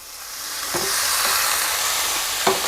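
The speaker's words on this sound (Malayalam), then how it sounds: "ഇതിലേക്ക് ചിക്കൻ ചേർത്ത് കൊടുക്കുക" Marinated chicken with a squeeze of lemon juice hits a hot pan for paper chicken, giving a steady, close frying sizzle that swells and holds, with a couple of light utensil taps.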